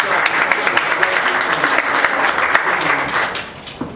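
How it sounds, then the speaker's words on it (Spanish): Applause from a conference audience honouring a speaker, a dense steady wash of many hands clapping that fills the room, then thins out at the end. "Un aplauso a la maestra, a la doctora Hernández"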